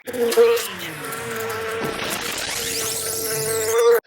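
Honey bees buzz steadily around hives during a July apiary inspection, a dense, close, continuous drone that rises and falls as individual bees fly past.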